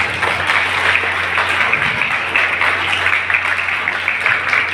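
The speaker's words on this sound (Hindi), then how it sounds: "आप सबकी तालियों के बीच में ग्रहण करें" An audience at a city award ceremony claps steadily through a presentation, forming a continuous, fairly loud wash of applause over a low hum.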